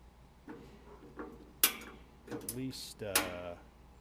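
A worn gas grill igniter clicks several times in short, sharp snaps spread across a few seconds, close and fairly quiet, with faint tonal ringing after some clicks.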